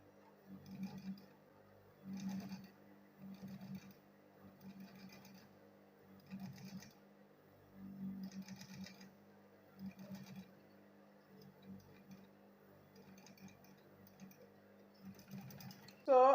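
A sewing machine stitches a leather school bag in short bursts of whirring, stopping and starting about a dozen times with quiet gaps between runs, fairly faint throughout.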